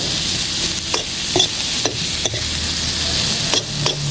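Miso being stirred into a pot of boiling fish sinigang made with mamale fish, heard as a steady bubbling simmer broken by several soft scraping stirs at irregular intervals, close and moderately loud with no talking.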